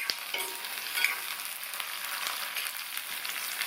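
Brinjal sizzles and fries steadily in oil in a pan with occasional stirring, a continuous close crackle with no voices, as oil-style eggplant is cooked for kuzhambu.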